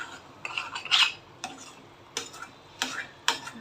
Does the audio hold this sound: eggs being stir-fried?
yes